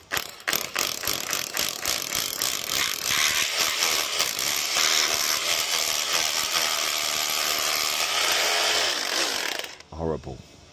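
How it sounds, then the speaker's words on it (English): A big drill bores holes into very hard brick while running cable, giving a loud, continuous grinding and rattling hammer drone that holds for about ten seconds before stopping, followed by a brief clatter. "So we need the big drill."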